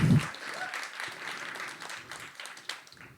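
A lecture audience applauds in a broad, steady wash of clapping that slowly thins and fades out.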